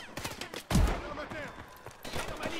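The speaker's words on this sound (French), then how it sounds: "fusil à pompe" A single heavy shotgun blast booms from a Call of Duty Advanced Warfare match, preceded by lighter clatter and followed by game ambience, with faint talk in the background.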